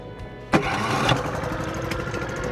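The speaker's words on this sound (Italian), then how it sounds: "accendiamo il motore fuoribordo" A Selva Black Bass 8 outboard motor on an inflatable tender fires up with its electric start, then settles into a steady mid-pitched running drone, close and without talk.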